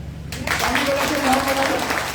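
Applause from a seminar audience at a business team-building talk starts abruptly after a short quiet moment and carries on as a dense rush of claps with a voice speaking over it.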